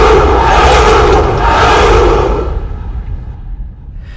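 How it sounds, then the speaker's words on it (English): A large crowd of Romulus's followers lets out a great roaring cheer, loud and sustained with echoing swells that fade off toward the end. "Delighted by this reply, the followers of Romulus let out a great cheer."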